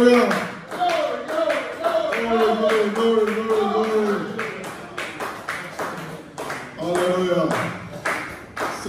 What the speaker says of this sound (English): Clap your hands and rejoice, ladies and gentlemen.